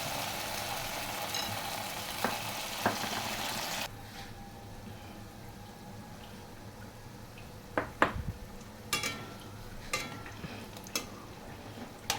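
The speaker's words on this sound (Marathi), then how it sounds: "आता आपण पटकन त्या तळून घेऊया, सगळं फ्राय करून घेऊया।" Chilli idli pieces coated in batter frying in hot oil, a steady broadband sizzle that drops in intensity partway through, with scattered sharp clinks and pops near the pan.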